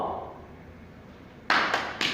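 Hands clap as part of a group cheer: after a fading tone, three sharp, close claps come in quick succession near the end, with no voices.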